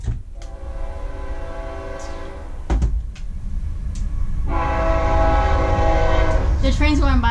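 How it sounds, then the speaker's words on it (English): A freight train passes close by, a steady heavy rumble of rolling cars broken by long, loud horn blasts, with brief talk near the end. "I think it's not an Amtrak. I think it's a freight train."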